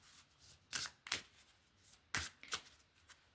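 Cards are shuffled close up in several quick riffling bursts with short pauses between them, quiet and crisp, with no talking.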